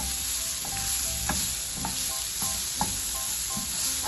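Chicken tikka stuffing with turmeric and coriander sizzles steadily in a pan while a spoon stirs it, scraping in regular strokes about every half second, close and clear with no talk.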